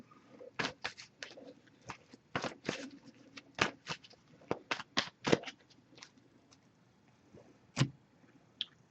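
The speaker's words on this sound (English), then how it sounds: "So I pre-shuffled this one as well, but we'll give it a few more shuffles." Quick riffling snaps of a tarot card deck being shuffled, several short bursts in irregular succession, close and fairly quiet, with no talking.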